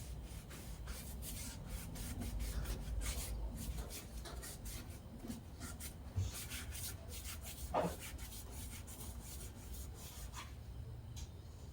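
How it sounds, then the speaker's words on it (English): Sanding a walnut and resin cutting board up to 320 grit, a steady close rasping rub that keeps going throughout with repeated strokes and a couple of small knocks, no voices. "Sand it up to 320."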